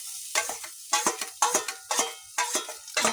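Chopped garlic fries in oil in a pan, with a close, crackling sizzle broken by repeated stirring scrapes in an uneven rhythm, about six strokes in quick succession.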